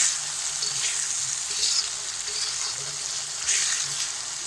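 Spice masala frying in oil for shahi chola bhuna, a steady, close sizzle that swells briefly now and then as the paste is stirred, with no talking.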